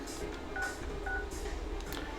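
Phone dialing in the game Persona 4 Arena Ultimax: a few short tonal beeps of keys being pressed, repeated at a steady pace over a constant bed of background game music or noise.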